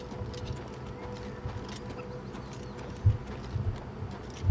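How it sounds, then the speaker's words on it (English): Horse hooves clip-clop in the Oblivion Remastered video game, a few soft, uneven footfalls over a low ambient hum, with birds cooing faintly in the background. "Horse."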